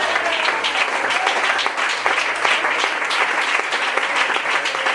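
Loud, sustained applause from a church congregation, dense clapping continuing steadily without a break.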